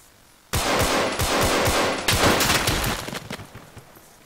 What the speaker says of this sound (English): I'm getting shot at too, though.